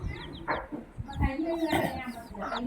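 Hens on a mixed farm cluck repeatedly at close range in short, uneven bursts, with overlapping calls from several birds throughout.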